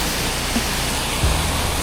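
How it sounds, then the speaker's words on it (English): A pressure washer sprays water through a shooter tip on a J-Rod while washing a house in pouring rain, a loud, steady broadband hiss with a brief low thump near the end, no speech. "The shooter tip here, a lot of water comes out."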